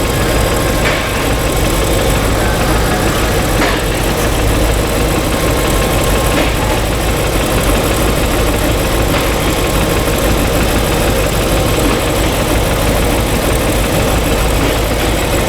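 A 2006 BMW 550i V8 idles with its Valvetronic system disconnected, a steady, loud, continuous engine rumble with faint irregular knocks running alone throughout.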